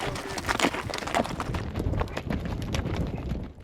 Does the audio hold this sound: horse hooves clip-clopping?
yes